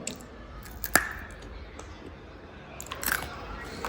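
Crunchy Kovilpatti peanut candy (kadalai mittai) bitten close up, two sharp crisp cracks about two seconds apart followed by quiet chewing, with no talking.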